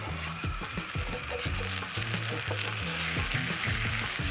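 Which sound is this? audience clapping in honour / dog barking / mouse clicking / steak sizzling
steak sizzling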